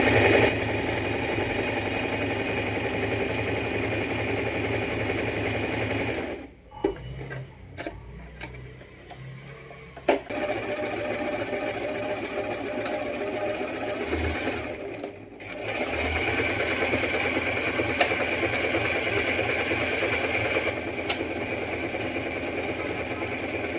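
An Usha Janome Stitch Magic sewing machine runs in a steady, fast whirring hum with ticking stitches, stopping twice briefly before resuming, close and continuous.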